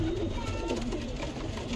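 A pigeon coos softly in low, rolling murmurs among other birds, heard close over a dense, steady background of chatter and ambient noise.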